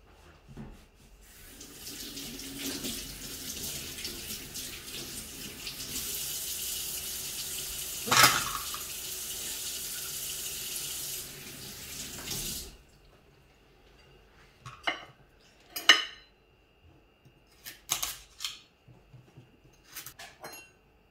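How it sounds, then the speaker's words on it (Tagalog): A kitchen tap runs steadily into a sink while potatoes and carrots are washed under it, a loud continuous rush for about twelve seconds, then stops, followed by scattered clinks, drips and handling noises. "kailangan muna natin hugasan ang ating potato at ang ating carrots"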